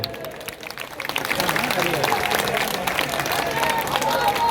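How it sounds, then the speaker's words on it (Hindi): A crowd at a Congress protest rally at Jantar Mantar applauds, a broad, continuous wash of clapping that swells and holds, mixed with crowd noise and voices in an open outdoor space. "एक बार जोरदार तालियों से स्वागत किया जाए।"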